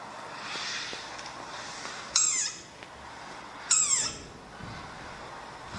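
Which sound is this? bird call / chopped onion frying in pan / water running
bird call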